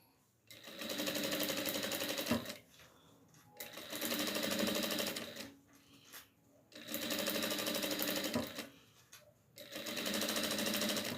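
A sewing machine stitches a small hat for a rag doll, running in three long steady bursts with short pauses between them, close and fairly loud.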